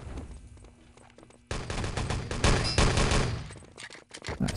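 Dense, rapid gunfire erupts after a quiet stretch and keeps crackling loudly with bursts overlapping in the Wolfenstein: Enemy Territory Beach map, fading briefly near the end before a few more shots.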